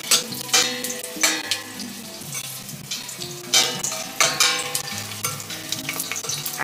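Chilies frying in hot spattering oil for a stewed nopales and chickpea dish, with a steady close sizzle broken by sharp crackling bursts and occasional stirring scrapes.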